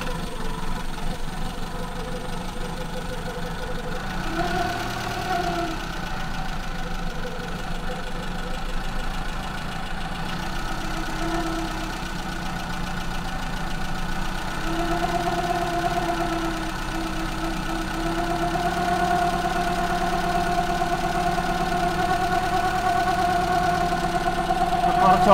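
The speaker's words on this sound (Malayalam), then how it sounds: "എഞ്ചിൻ ഇപ്പോൾ ഐഡ്ലിംഗ് ആർ പി എമ്മിലാണ് നിൽക്കുന്നത്" A Maruti Zen car engine with a carburetor sits at idle RPM during tuning, giving a steady, even mechanical hum that runs without a break and grows slightly louder toward the end.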